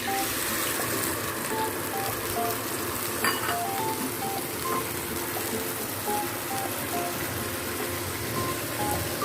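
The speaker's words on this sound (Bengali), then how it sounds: "এবার তেলের মধ্যে মশলাটা দিয়ে দিচ্ছি।" Spice paste drops into hot oil for a prawn and pointed gourd dorma and fries with a loud, continuous, close sizzle, broken by faint clinks of the pan.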